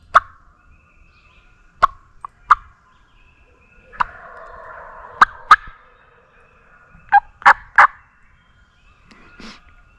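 Wild turkeys gobble at dawn during a spring turkey hunt, with loud, rattling gobbles that come in separate bursts, some near and some farther off, and several in quick succession near the end, with no talk.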